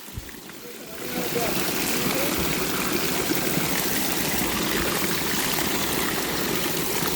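Water pours from a row of nine old stone spouts in a mountain setting, a dense continuous splashing rush that swells up after the first second and then holds steady and close.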